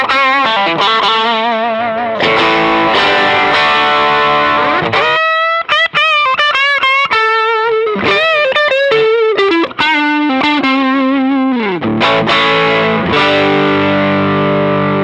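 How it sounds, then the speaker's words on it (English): Electric guitar driven through a Sencha Drive tube-screamer-style overdrive pedal into a pushed amp, playing loud sustained chords and single-note lines with a thick, gritty tone and brief pauses between phrases. "Now we've got a really nice overdrive sound."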